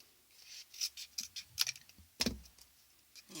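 Scissors snipping and trimming card on a paper gift box, a series of faint, close, irregular crisp clicks and cuts with quiet pauses between them.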